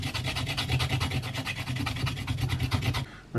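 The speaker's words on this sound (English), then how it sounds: "And it's the same thing, so isopropyl and scrubbing." Xbox 360 heat sink being scrubbed with isopropyl alcohol: rapid, rhythmic back-and-forth brushing strokes, close and fairly loud, continuous for about three seconds before stopping abruptly.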